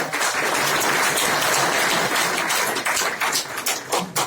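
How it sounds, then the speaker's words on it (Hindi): Audience members at a network marketing training seminar clap vigorously for a few seconds, a dense, close round of applause that thins toward the end. "क्या एक जोरदार तालियां इनके लिए हो सकती है?"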